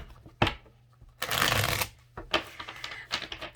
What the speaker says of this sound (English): let's pull a few tarot cards and see what we see